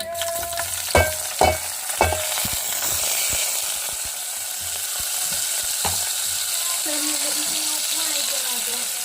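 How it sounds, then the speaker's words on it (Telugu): Green chillies and onion fry in oil with tempering spices for upma, producing a constant close sizzle. A few sharp clanks of the utensil against the pan come near the start, then softer stirring scrapes. "వీటితో పాటే పచ్చిమిర్చి ఆనియన్ వేసుకున్నా"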